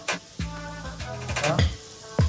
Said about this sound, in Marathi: आल्या लसणाची पेस्ट टाकलेली आहे श्वेताने आणि ती घाटलून घ्यायची आहे